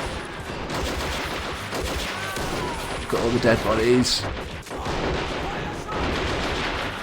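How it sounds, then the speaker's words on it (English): Rapid gunfire and explosive bursts from the plastic toy-soldier war game Army Men of War Legends, with volleys rattling continuously under someone talking over the action. "Look at all the gunfire. It's whizzing through the air."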